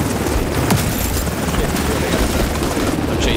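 An extraction helicopter in The Division 2's Dark Zone sends out a loud, continuous rotor thrum with a few sharp game impacts mixed in.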